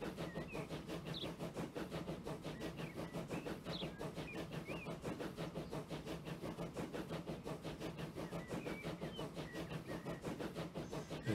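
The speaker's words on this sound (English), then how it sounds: "There's a Met mainline passenger train coming into Quainton Road" Met mainline passenger train from Transport Fever 2, arriving at Quainton Road in the evening: a steady rolling rumble with rhythmic clickety-clack of wheels over rail joints and a soft hiss, continuous and moderately distant, with no talk.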